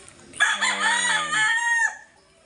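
A single loud, close rooster crow rings out, a long harmonic call that holds and then drops off sharply, followed by quiet.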